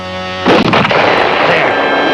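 A single loud gunshot cracks out in a wooded frontier setting, its sharp report followed by a long rolling echo that fades over a couple of seconds.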